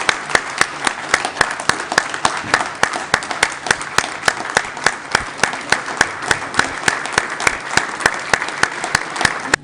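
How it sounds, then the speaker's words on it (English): A standing audience at a Guru Nanak Dev Ji 550th Gurpurab celebration in London's City Hall applauds an award honouree, with steady, dense clapping that carries on loudly and evenly throughout, with no voices over it. "join us in a round of applause for this"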